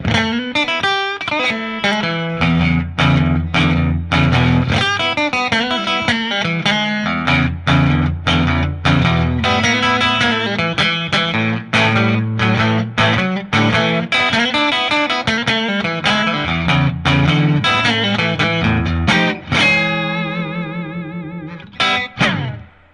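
Electric guitar through a Fender Twin amp, played loud and continuous with distortion and reverb, chords and riffs ringing out for over twenty seconds before a shimmering, wavering tail at the end.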